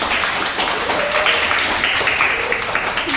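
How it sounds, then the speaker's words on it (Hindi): Children in a play-based animal sounds lesson clap together in a steady patter of hand claps, with voices and classroom chatter mixed in throughout. "बजाओ ताली"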